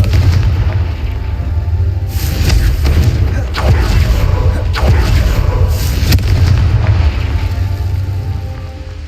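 Repeated Confringo blasting spell explosions in Hogwarts Legacy, several heavy booms spaced a second or so apart over a constant rumbling background, with a voice cutting in between.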